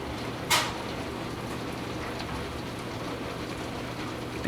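Heavy summer rain drums steadily on a skylight during a thunderstorm, a dense continuous patter with a low hum beneath and a brief sharp crackle early on.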